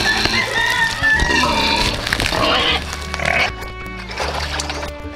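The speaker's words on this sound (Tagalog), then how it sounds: "magpapakain din tayo sa ating alagang baboy mga kalab" Pigs grunt and squeal loudly and continuously at feeding time on a farm, with chickens clucking among them in a busy, crowded barnyard.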